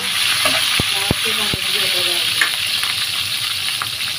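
Onions and green chillies frying in hot oil, a loud continuous sizzle with a few sharp utensil knocks and scraping stirs in the first half, then a steady hiss.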